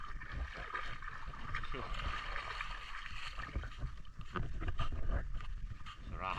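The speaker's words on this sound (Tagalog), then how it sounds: "Yun, lupit sa agos, matinding agos." A strong river current rushes and gurgles, a continuous churning wash of water that swells louder toward the end, with someone talking over it.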